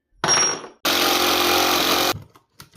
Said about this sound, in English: I have to drill a hole to run my wire for that